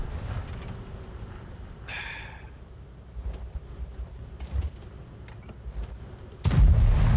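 A tank cannon fires in the video game World of Tanks, from a Waffle Pz tank destroyer, with a steady engine rumble throughout, a brief whine, and a loud, heavy boom near the end.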